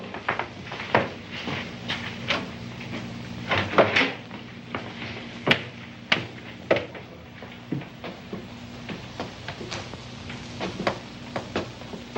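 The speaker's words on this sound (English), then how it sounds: "Just open the door right across from where you're standing." An attic door is handled amid a string of sharp wooden knocks, clunks and creaks spread across the stretch, some louder and nearer than others, with a low steady hum underneath and no one speaking.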